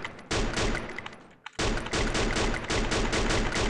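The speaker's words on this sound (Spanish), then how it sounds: "Están disparando desde ahí" Rapid automatic gunfire in the Free Fire battle royale game, loud and dense bursts filling nearly the whole stretch with a brief gap midway before the shooting resumes.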